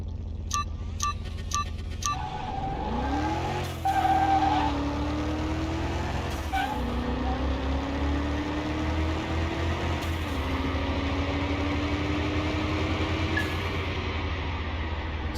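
A Ferrari GTB racing in Car Mechanic Simulator 21, its engine whining up through the gears with rising and falling pitch, loud and close, with a few brief clicks and skid noises early on.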